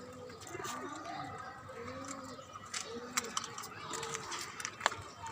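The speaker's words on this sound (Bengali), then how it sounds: "এদিকে কবুতর খাবার খাচ্ছে।" Pigeons cooing repeatedly as they feed on a rooftop garden, soft rounded coos recurring close by with small clicks and pecking sounds, while a person talks over them.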